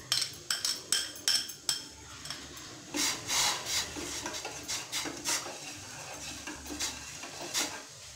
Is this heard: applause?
no